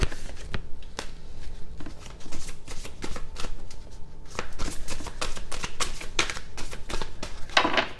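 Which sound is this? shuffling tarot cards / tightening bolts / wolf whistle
shuffling tarot cards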